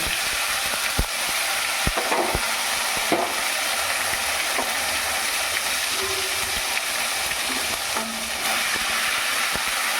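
A spice paste of ginger, cumin and green chili sautés in hot oil, giving a loud, continuous sizzle with occasional sharp clicks and scrapes of a spoon against the pan.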